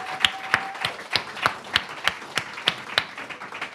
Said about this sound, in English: Let's give another round of applause for all of our speakers and organizations